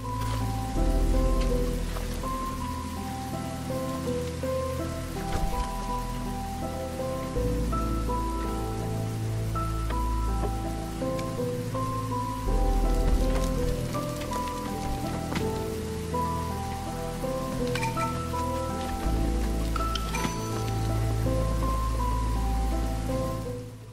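Constant rain in the trailer for the roguelite city builder Against the Storm, an unbroken hiss of drops beneath sustained low tones.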